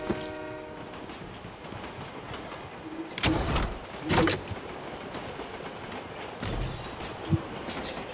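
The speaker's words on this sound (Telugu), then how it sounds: "అటు సైడ్ నుంచి ఇంకో ట్రైన్ వస్తుంది" A train pulls into a station platform in the BGMI 3.8 update, opening with a sustained horn over low rumbling, then several loud whooshing bursts as carriages rush past, with no voices.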